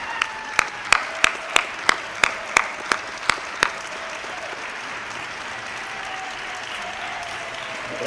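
An audience in a large theatre applauds foundation staff at a community event. A run of evenly spaced sharp claps rings out first, then sustained, even applause fills the hall.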